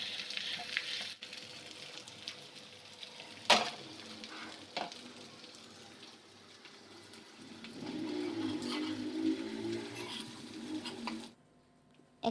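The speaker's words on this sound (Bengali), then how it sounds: "এটা ভালোভাবে ভাজা হয়ে গেছে" Chicken pieces fry in hot oil for murgh musallam, giving a quiet, steady sizzle with a few sharp stirring clinks, swelling into louder crackling before cutting off near the end.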